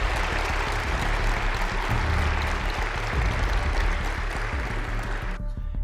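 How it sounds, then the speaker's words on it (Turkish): Dense, steady applause from a meeting hall crowd of men in ties clapping for Kılıçdaroğlu at a political gathering, loud and continuous throughout before cutting off abruptly at the end. "kravatlı herifler bu adamı alkışlıyor"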